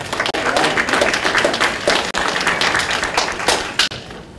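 A room at a legislative listening session applauds a school board member, a close, loud burst of many hands clapping unevenly, with a few sharp thumps and brief dips in the noise.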